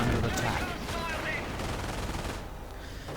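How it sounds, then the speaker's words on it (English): Heavy machine gun fire rattles through a video game battle in a dense, continuous roar of bursts and distant explosions, loud and unbroken across the whole stretch with no voice on top. "More machine gun fire right here"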